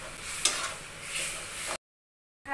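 Fenugreek leaves hit a hot pan and sizzle with a steady frying hiss and a stir or two, close and fairly quiet, before cutting to brief silence.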